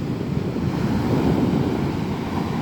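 Ocean waves breaking on Yangyang beach in Korea, a continuous low roar of surf mixed with wind buffeting the microphone, steady and fairly loud.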